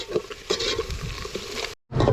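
Onions and green chillies fry in a pan while being stirred, a close, crackling sizzle with scraping stirs that cuts out briefly near the end and then resumes.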